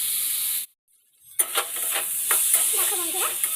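Chopped tomatoes softening in a pan over a low gas flame, a steady bright sizzle and hiss broken by a short silent gap, then resuming with faint stirring scrapes.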